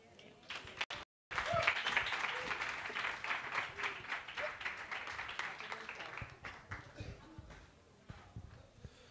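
A conference audience applauds at a Nedbank Simply Biz event, a dense, sustained burst of clapping that follows a brief silence and fades gradually over about nine seconds, with some talk mixed in.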